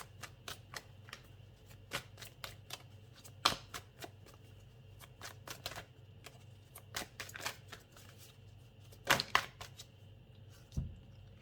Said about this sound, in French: Je vais tirer une carte des réponses angéliques de Dorine Virtue